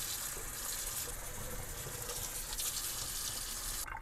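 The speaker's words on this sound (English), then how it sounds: "we'll water her now" Water pours while houseplants such as philodendrons are watered indoors, a soft continuous splashing trickle that holds steady for several seconds before cutting off near the end.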